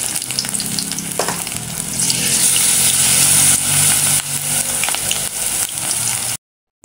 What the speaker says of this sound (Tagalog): Ilagay natin sa mainit na kawali sa ibayot ng mantika ang 1 kutsara ng mixture